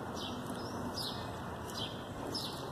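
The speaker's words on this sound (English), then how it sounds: "are we watching birds?" Small birds outside give faint, high chirps and tweets, four or five short calls spread over a low, steady background hiss, with no voices.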